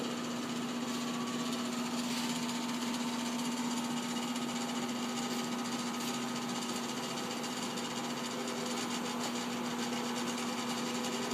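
Electric motor on a lab test bench running with a steady, even hum and whine as the load is raised through a load controller, continuous and moderately quiet throughout.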